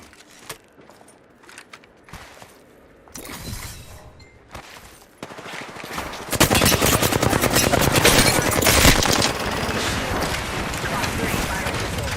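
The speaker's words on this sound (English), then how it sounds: "Bad boys are shooting at me." Video game gunfire in a firefight with shielded enemies, heavy automatic bursts growing louder and more continuous toward the end, with quieter sporadic shots and game sounds before; voices talk over parts of it.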